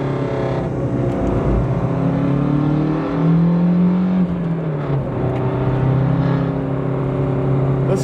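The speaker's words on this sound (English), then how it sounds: "The turbo spool is incredible. Listen to that exhaust." A Lancia Hyena Zagato hatchback, built on the Delta Integrale, accelerates on back roads with a loud, continuous turbocharged engine drone, and its exhaust note climbs and falls through gear changes as the turbo whirs beneath it, with no talk.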